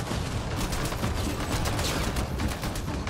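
Sustained automatic weapon fire in combat in Mass Effect Andromeda, a continuous rattling stream of shots for a few seconds, loud and close with no speech.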